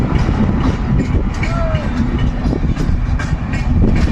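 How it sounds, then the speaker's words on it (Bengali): A train passes by in the countryside, with a steady, loud rumble and rolling noise close at hand and a brief squeal partway through. "সামনের দিকে দেখো ট্রেন পেরিয়ে যাচ্ছে"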